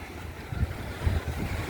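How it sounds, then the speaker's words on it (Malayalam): Rough sea waves crash at Dhanushkodi, heard as a continuous low roar of surf mixed with wind buffeting the microphone, with a few heavier surges. "തിരമാല ഇങ്ങനെ അടിച്ചുകൊണ്ടിരിക്കുകയാണ്"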